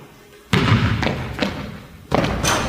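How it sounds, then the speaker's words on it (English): A basketball hits a court floor in a couple of heavy, booming thuds during a one-dribble layup drill, close and loud with some echo between bounces. "He's going to take one dribble, then he's going to shoot the layup."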